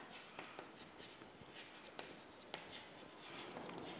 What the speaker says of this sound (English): So you have to write carriage amount in debit column, 300.